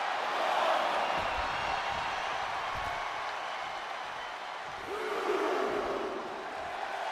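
A wrestling arena crowd in the WWE 2K24 game roars and cheers steadily throughout, a broad sustained wash of many voices that swells slightly near the end.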